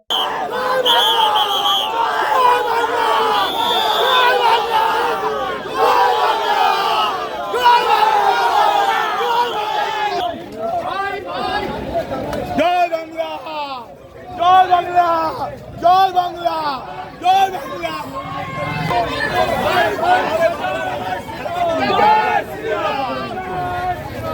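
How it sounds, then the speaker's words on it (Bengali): A large crowd of political party supporters at a Bhabanipur rally in Bengal chants slogans in loud rhythmic unison, voices dense and overlapping, with shouting and hubbub throughout. "তৃণমূল কংগ্রেস কর্মী ও সমর্থকেরা চোর চোর এবং জয় বাংলা স্লোগান দিতে শুরু করেন"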